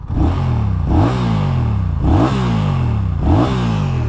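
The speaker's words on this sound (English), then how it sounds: "Let's have one last listen to the soundtrack of the bike before we sign off." A 2024 Honda Rebel 1100 cruiser motorcycle engine revs up repeatedly, about four rising throttle blips in a regular rhythm over a deep idle, loud and close.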